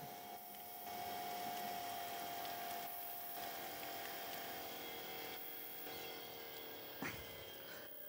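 A stainless steel VSD pump running at 4 bar, giving off a steady mechanical hum with a faint tonal whine, fairly quiet and continuous, with slight shifts in level and a small knock near the end.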